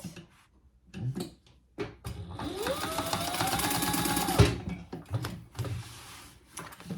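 A sewing machine stitches a mini backpack in one steady motorized run of about two and a half seconds, with quieter handling noises before and after.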